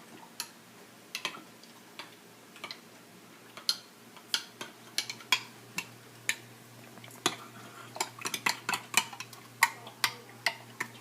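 Tater tot casserole ingredients mixed in a bowl, a run of irregular sharp utensil clicks and taps against the dish, quiet and close, speeding up near the end over faint background hum.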